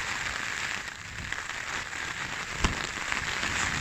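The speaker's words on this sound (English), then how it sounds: "It's fucking raining." Steady rain from Storm Betty patters and hisses across a surface at a wild camp on a mountain, a dense even wash of sound with a single sharper drop standing out.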